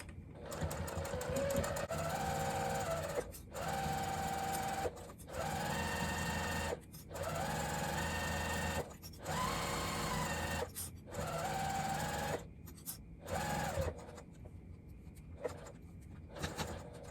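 A sewing machine stitches through a thick seam on a crossbody bag, running in steady bursts of rapid mechanical whirring with short pauses between runs, close and clear.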